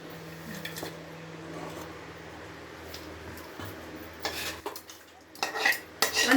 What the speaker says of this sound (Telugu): ఈ పోపుని మొత్తం రైస్లో బాగా కలిపమ్మా.